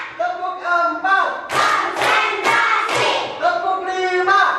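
Group hand claps in a classroom clapping routine during an Islamic religious education lesson: a run of four sharp, evenly spaced claps in the middle, framed by students chanting together in unison.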